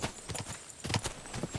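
Horse hooves clip-clopping in the medieval game Kingdom Come Deliverance 2, a quick uneven patter of hoof strikes at moderate volume with no talk over it.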